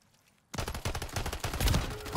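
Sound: gunfire from a video game

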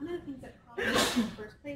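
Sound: a person sneezing

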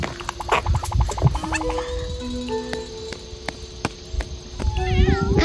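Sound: cat meowing

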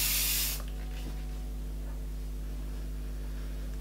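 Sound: hairspray being sprayed on a top knot

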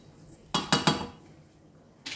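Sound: mixing pancake batter ingredients in a bowl

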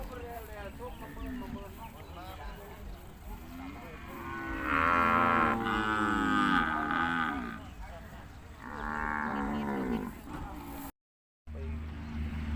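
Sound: beef cattle mooing at a livestock market

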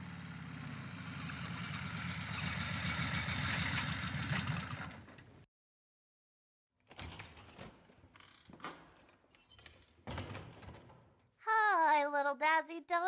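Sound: motorbike pulling up

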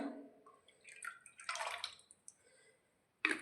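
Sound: capful of white vinegar poured into water

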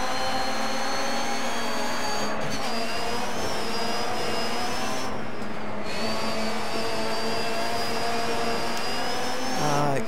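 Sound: rally cars racing in the video game DiRT 3

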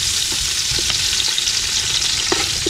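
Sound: sautéing ginger, garlic, onion and tomato in a pan

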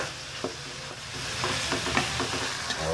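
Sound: sautéing ground meat in a pan

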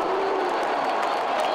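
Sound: football crowd cheering in stadium

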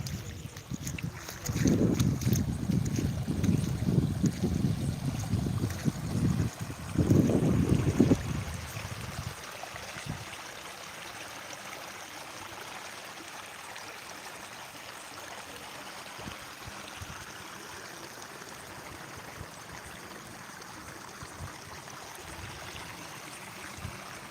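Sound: water flowing from leaking pipe

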